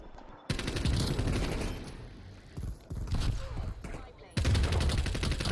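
Gunfire from Call of Duty Black Ops on the Nuketown map with an AK-74u: bursts of rapid automatic shots in several runs separated by short gaps, with someone talking over parts of it.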